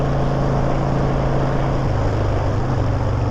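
A Harley motorcycle engine drones steadily at road speed, a loud continuous low rumble with wind roar, holding an even pitch throughout with no voices.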